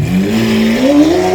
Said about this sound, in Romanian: Din telecomandă poți face mașina să se audă foarte agresiv